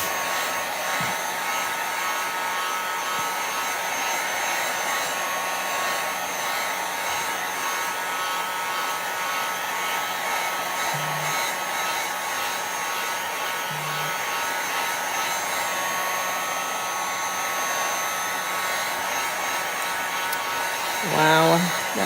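A hair dryer blows steadily and close by, drying chalk paste on a craft project with a constant whirring roar for over twenty seconds. Its pitch shifts slightly at the end as it switches off or changes speed.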